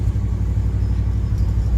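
Rebuilt 1959 Dodge truck with a newly restored front end rumbling along on a test drive, a low steady engine drone heard from inside the cab.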